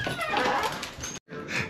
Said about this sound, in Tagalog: Pasukin ko muna yung mga aso.